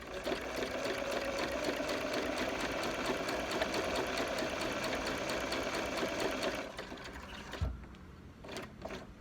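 A sewing machine runs steadily, stitching a hooded bath towel with a continuous whirring hum for most of the stretch, then stops, leaving faint handling noises and a brief thump.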